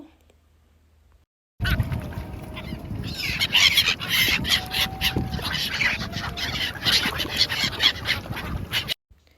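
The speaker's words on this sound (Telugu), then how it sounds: "చూడండి పక్షులు ఎన్ని ఉన్నాయో" A crowd of ducks or gulls calls repeatedly at the Maha Kumbh Mela in Prayagraj, overlapping squawks and quacks near and far above a rumbling background.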